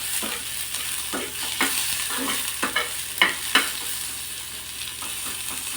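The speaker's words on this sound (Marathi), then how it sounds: "आता हा कांदा आपण व्यवस्थित असा भाजून घ्यायचा" Onion being stir-fried in a pan for a spicy Marathi-style brinjal curry with red chillies, steady close sizzling broken by repeated scraping strokes of a spatula, no talking.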